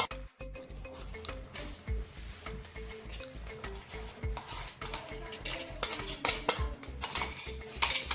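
Finely ground powder for til poli is spooned out of a vessel into a bowl, making a quiet, steady series of metallic scrapes and light taps that continue through the whole stretch.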